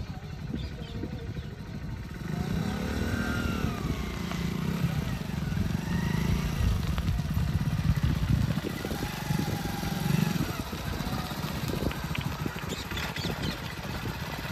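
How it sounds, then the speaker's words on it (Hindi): A motorcycle engine runs steadily and loud as a learner rider applies throttle, its rough low drone rising slightly in pitch while the bike pulls away, with brief voices faintly mixed in. "एक्सीलेटर लीजिए और लीजिए, और बंद हो जाएगी नहीं तो"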